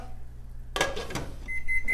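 A short electronic beep rings out near the end, a steady high tone following a brief clatter of kitchen noise.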